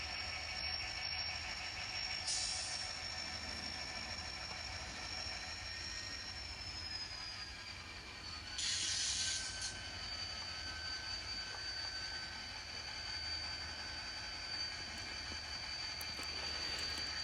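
An N scale model train runs around its cars on a layout at a chemical plant siding, giving a steady quiet rolling hum with a faint high wheel squeal and two brief clicks, with no voices.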